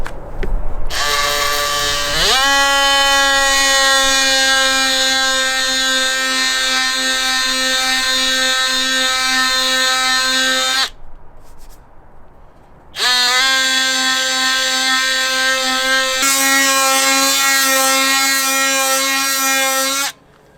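A cordless power sander scuffs a damaged RV body panel with 120-grit paper, a loud steady motor whine running for several seconds, pausing briefly, then starting again, close up with no talk.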